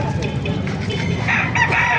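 Roosters crow amid a noisy flock of clucking chickens. One crow rises clearly toward the end over the busy farmyard clamor.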